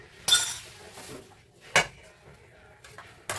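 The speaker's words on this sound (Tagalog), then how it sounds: "tayo maghugas muna ng plato" Dishes and cutlery being washed: a few sharp metallic clinks and clatters of plates and utensils up close, separated by quiet gaps with faint background murmur.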